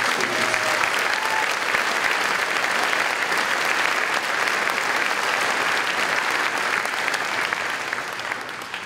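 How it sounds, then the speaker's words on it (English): Sustained applause from a high school graduation ceremony crowd, steady and dense clapping throughout, tapering slightly near the end. "Jacob, Rainer, Ben, Natasha, and Bridget one more round of applause for their awesome students"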